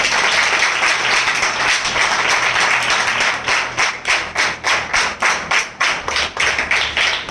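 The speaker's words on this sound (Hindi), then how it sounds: "हम जोरदार ताली से उनका स्वागत करें।" A church congregation claps loudly in welcome, first as a dense wash of applause that settles into a steady, rhythmic unison beat of sharp claps.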